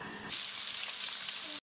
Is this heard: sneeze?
no